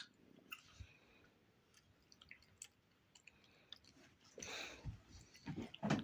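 A hamster chews food in quiet, close, irregular little bites and crunches that grow louder and busier toward the end.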